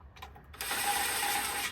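A ratchet tightens bolts on the transmission pan of a 2018 Ford F250 Super Duty diesel, starting with a couple of quick clicks, then a sustained run of rapid ratcheting, close and alone.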